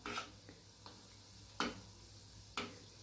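Food frying in a pan on low gas sizzles faintly in the background while a spoon stirs it, producing a few sharp scraping clicks at irregular intervals, close by.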